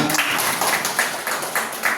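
Classroom applause at a school, a short burst of hand clapping with uneven rhythm that stays fairly loud and steady throughout.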